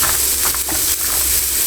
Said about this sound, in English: I'm just going to pop them into our big pan, and next up just going to pop our carrots in